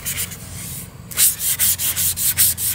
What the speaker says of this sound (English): I'm gonna go over it with this sanding sponge